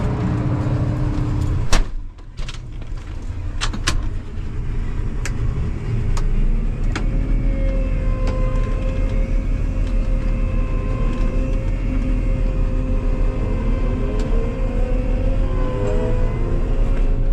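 A farm tractor's engine drones steadily as it hauls wagons up a hill. A loud, even, low rumble runs throughout, with a brief dip and a few knocks near the start.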